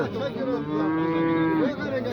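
A cow at a livestock market gives one long, loud, close moo that rises and then slides down, heard over a faint background murmur.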